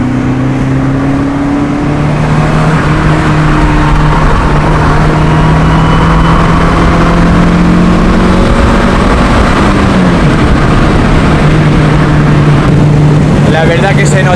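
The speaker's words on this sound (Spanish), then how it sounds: "estás hablando de un coche que suena bastante bien" A Renault Clio 2 RS 182 hp engine drones loudly and steadily, its pitch holding then dipping and climbing again as it revs, close and continuous throughout.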